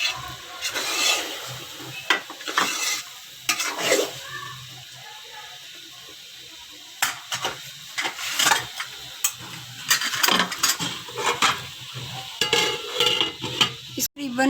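Sweet jaggery rice being stirred in a pot, a spoon scraping and clinking in irregular bursts with soft sizzling, pausing briefly in the middle before the stirring resumes.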